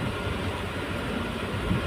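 A CRS inspection saloon train rolling along the track on the Guwahati–Silchar–Bairabi line, a steady low rumble heard from inside the carriage that keeps an even level for the whole moment.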